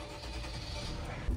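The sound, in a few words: van engine starting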